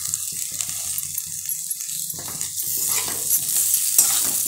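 Potatoes and chili chutney roasting in a pan as they are stirred, a steady bright sizzle with scraping strokes of a spoon against the metal, growing louder toward the end.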